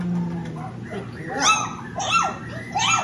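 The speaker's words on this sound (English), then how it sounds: "we hear a lot of whining because all the mommies are out of the kennel" Doodle puppies in a kennel whine and yip in several rising, high-pitched cries, close and repeated, while a person talks throughout.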